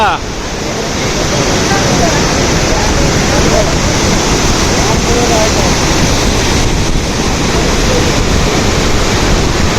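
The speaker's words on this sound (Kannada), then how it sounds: "ತುಂಬಿ ಹರಿತಾ ಇದೆ ಮೈದುಂಬಿ" Loud, steady roar of the overflowing Malaprabha River rushing at the Kolachi dam near Ramdurg, Belagavi, fills the whole clip, a dense continuous wash with wind buffeting the microphone.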